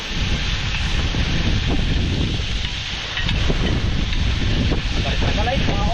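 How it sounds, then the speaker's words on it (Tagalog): Wind buffets the microphone over steady heavy rain noise during outdoor cooking, loud and continuous with brief rustles. "Pati hangin, ulan."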